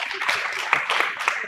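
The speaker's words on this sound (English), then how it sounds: "Hands or clap for her." A conference audience gives brief, scattered applause for a speaker, a short spell of light clapping with mixed voices underneath.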